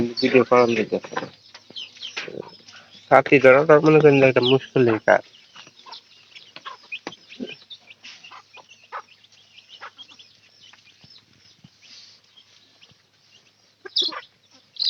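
Chickens cluck and cackle close by, with a loud rooster-like call early on, followed by scattered softer clucks and pecking noises.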